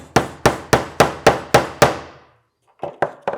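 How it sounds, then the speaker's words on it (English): A hammer drives the first nail into a wooden planter box with seven sharp, evenly spaced close strikes, then a pause and three lighter taps. "let's get that first nail tacked in"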